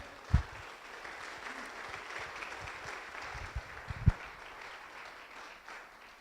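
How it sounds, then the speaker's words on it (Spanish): Congregation at an evening Spanish-language church service claps for the Lord, a moderate, somewhat distant patter of applause with a couple of sharper thumps standing out. "¿Qué tal si le damos un aplauso al Señor en esta noche?"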